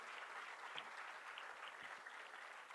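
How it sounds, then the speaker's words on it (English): At a school felicitation ceremony, an audience applauds students with a continuous, even wash of many clapping hands. The applause sounds somewhat distant and soft, and it holds steady throughout. "Can we have a huge round of applause for these"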